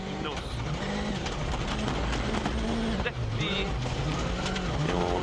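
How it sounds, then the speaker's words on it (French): A Ford Fiesta rally car with an engine fault runs abnormally hoarse at the 2012 Wales Rally GB, giving a loud, continuous engine roar that carries straight through with a commentator talking over it. "Écoutez le bruit de la Ford Fiesta de Mats Osberg. C'est anormalement rauque."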